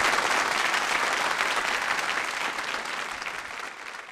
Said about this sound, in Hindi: मोटे रूप से तालियां जोरों से बजाइए।